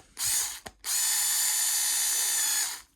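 A powered screwdriver whirs close by while tightening a screw on a Dyson V6 head, with a short burst, a brief catch and then a longer steady run that fades out.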